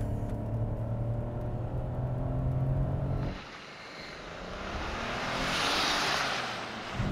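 A 2023 Ford Bronco Sport Heritage launched hard from standstill in sport mode with traction control off, heard from outside: a rumbling idle gives way to a rising, rushing engine roar that swells and then fades as the car pulls away.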